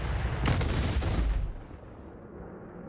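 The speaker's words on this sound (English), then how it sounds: "if I press this funny button, you can see the torpedoes spawn out" Torpedoes launching from a ship in the space game Star Citizen: a sudden loud booming burst of firing that rumbles for about a second, then fades into a low hum.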